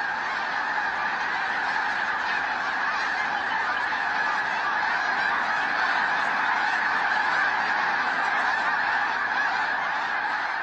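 A huge flock of snow geese honking continuously, a dense wall of overlapping calls at steady loudness throughout.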